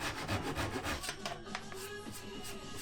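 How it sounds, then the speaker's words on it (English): A Japanese pull saw cuts wooden dowels flush with a surface, giving a steady, close rasping stroke rhythm at moderate volume with no voices. "I cut the dowels off flush using my Japanese pull saw."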